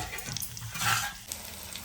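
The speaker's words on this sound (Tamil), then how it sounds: "எண்ணெய் நல்லா சூடு வந்துருச்சு. இப்போது நம்ம இதில் வெங்காயம், பெரிய வெங்காயம் கட் பண்ணி வச்சுருக்கேன், அதை இது கூட சேர்க்குறேன்" Chopped big onions hit hot oil in a pan and sizzle steadily with a brief stirring swell, close and continuous with no talking.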